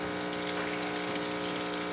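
A Rancilio Silvia espresso machine, serviced after a full tune-up, pumps water through a shot of coffee. It gives a loud, steady, close vibratory hum with a constant watery hiss, unbroken for the whole stretch.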